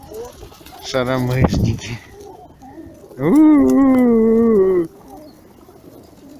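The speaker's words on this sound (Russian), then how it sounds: "Так, не обижай птичку." City pigeons huddled on sewer manhole covers in the cold give two loud, close throaty coos, the second longer and steady, with a voice talking between them.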